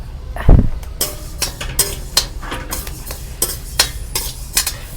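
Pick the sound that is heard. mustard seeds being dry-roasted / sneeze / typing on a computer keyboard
mustard seeds being dry-roasted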